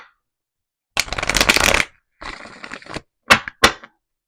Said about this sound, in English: I'm going to give a little shuffle